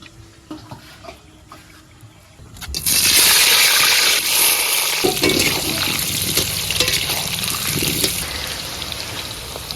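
Mustard oil hits a hot wok and breaks into a loud, steady sizzle that starts abruptly and continues crackling close up, after a few quieter clinks beforehand.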